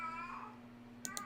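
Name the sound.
pet cat meowing in the background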